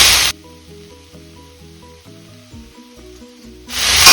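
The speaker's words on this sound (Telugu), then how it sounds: "హైలో పెట్టుకుని వేపాలండి," Ginger-garlic paste fries on high heat in a pan, a loud steady sizzle that starts abruptly, gives way to a quieter hissing stretch, then surges back. The dish is an egg and colostrum junnu fry.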